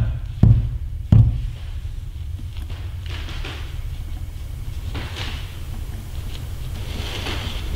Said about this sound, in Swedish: Det är som en knackning bakom oss.